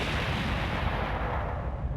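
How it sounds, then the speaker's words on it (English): A helicopter crashes into a building and explodes in the arcade shooter Virtua Cop, giving a loud, dense, rumbling blast that roars on for two seconds with heavy low-end booming. "the helicopter spirals out of control and crashes into the building in a massive explosion"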